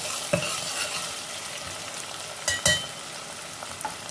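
Two small chopped onions brown in hot oil in a pan, sizzling steadily up close while a utensil stirs and clinks against the metal in a few sharp knocks.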